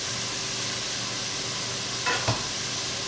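Shredded squash sizzles and fries in a pan with constant loud hiss, and a couple of brief stirring scrapes come near the end.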